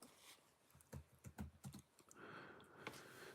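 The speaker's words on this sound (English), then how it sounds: "I can't see what I'm typing" Keys clatter on a computer keyboard in short irregular bursts of close, quiet tapping. A steady hum continues underneath.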